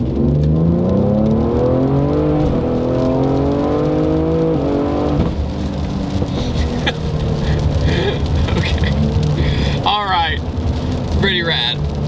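A 700-horsepower Ford Explorer ST revs hard and accelerates, its engine note climbing in repeated rising sweeps through the gears. The sound is loud and close, with brief sharper bursts toward the end.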